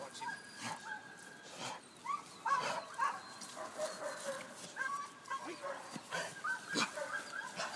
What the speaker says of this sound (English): when he does bark, we know it's real